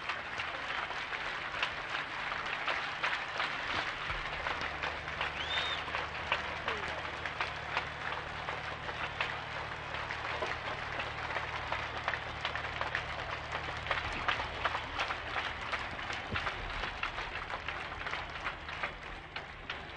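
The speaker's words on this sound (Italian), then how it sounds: "l'applauso che sta accogliendo la sua bara all'esterno della chiesa" Prolonged crowd applause outside a church in Palermo greeting Giovanni Falcone's coffin at his state funeral, a steady outdoor clapping mixed with crowd murmur and a voice speaking over it.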